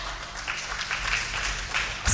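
A church congregation claps in praise during a service, a sustained, fairly even wash of many hands at moderate distance that swells slightly at the end.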